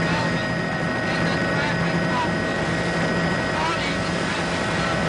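A traffic-report helicopter's engine gives a continuous, loud, even drone with a faint high whine, steady from start to finish, and a voice sits faintly beneath it.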